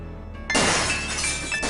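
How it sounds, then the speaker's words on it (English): Glass shatters loudly in an adventure video game, a sudden close crash followed by a spray of tinkling shards, with a second smaller burst near the end. "Gabriel hears the faint sound of breaking glass."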